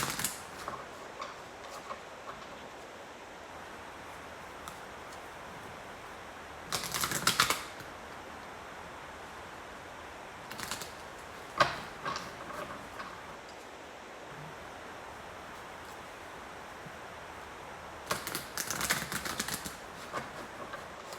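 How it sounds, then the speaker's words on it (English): Soft, irregular clicking and shuffling of tarot cards with a few louder bursts of card riffling, close by and otherwise quiet, no talking. "Let me shuffle the cards."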